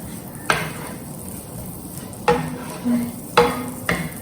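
Spoon stirring paneer in a chili sauce in a pan, with a few distinct scraping clinks spaced across the stretch over a soft background hiss.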